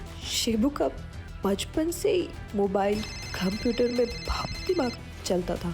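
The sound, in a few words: mobile phone ringing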